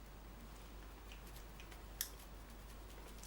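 A Lansky Roadie knife saws through cheap rope: faint, scratchy fibrous ticks build quietly, then a single sharp snap as a strand parts, followed by a few soft crackles. No voices.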